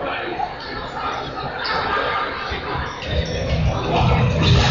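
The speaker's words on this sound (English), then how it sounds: "Crowd certainly showing their appreciation." A basketball crowd at a high school game during halftime, St. George Saints against Leboldus Suns, fills the gym with steady applause and general hubbub that swells slightly toward the end.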